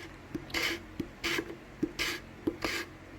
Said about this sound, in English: so this is called scraping.